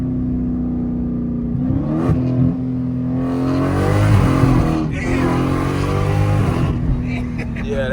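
Dodge Demon engine revving hard while accelerating in second gear, a loud sustained roar with rising pitch sweeps, heard from inside the car with people talking over it.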